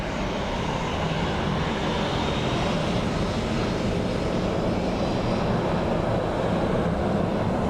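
A Swiss Airbus A220 airliner landing in gusty crosswind at Dublin Airport, heard as a steady, loud broadband engine roar and rush of air that fills the whole stretch with no talk.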